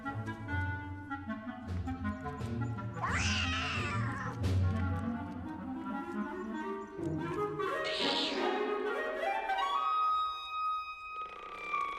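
Clarinet phrases represent the cat in Peter and the Wolf, with two sliding, meow-like swoops rising over low orchestral accompaniment, moderately quiet.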